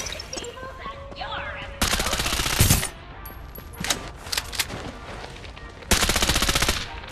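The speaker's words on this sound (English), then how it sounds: "Open fire." Automatic gunfire in the video game Farlight 84: two loud sustained bursts of rapid fire, with scattered single shots and effects between them, alone without talk.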